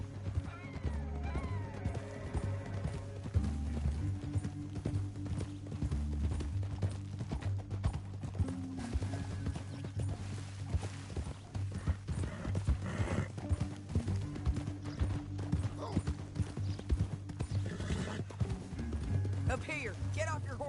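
Horses gallop in Red Dead Redemption 2 gameplay, a rapid, steady clip-clop of hooves under a game score, with occasional whinnies and characters talking over the ride.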